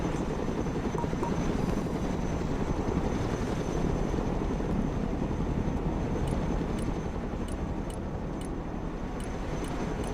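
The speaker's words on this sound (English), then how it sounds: "Let's go and recover it with our helicopter." A cargo helicopter's engine and rotors drone steadily throughout in the video game Broken Arrow, a dense, unbroken whirring roar at a constant level with no voices.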